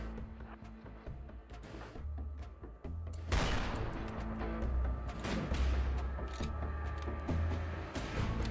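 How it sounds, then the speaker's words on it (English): Hand cannon gunfire in a video game battle: loud, dense bursts of shots and booming impacts that build after a quieter opening and keep rolling steadily to the end. "Damn, hand cannon's got some range."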